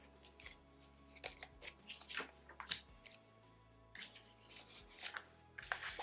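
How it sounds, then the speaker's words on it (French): Playing cards are handled and picked through up close, with crisp flicks, slides and taps in an irregular rhythm over a faint background hum. "on va commencer par choisir les cartes"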